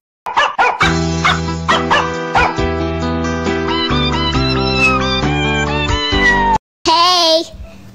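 A single cat meow rises and falls near the end, loud and close, following several seconds of steady tonal background sound.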